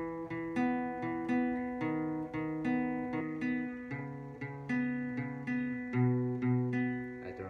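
Electric or acoustic guitar plays the chorus of a song, steady plucked chord notes ringing clearly in an even, unhurried rhythm with no talk.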